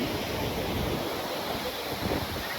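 Waterfalls in the Andharban jungle give off a steady, even roar of rushing water, unbroken and fairly soft, with no voices over it.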